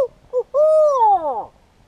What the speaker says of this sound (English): You hear those owls?